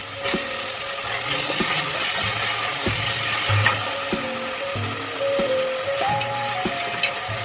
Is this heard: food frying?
yes